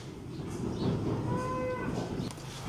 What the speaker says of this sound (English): Moo. Look at that big heifer.